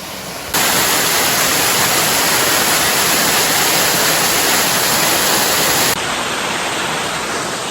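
Loud, steady roar of a waterfall close by on Mt Te Aroha's Butlers Incline track, unbroken rushing water throughout.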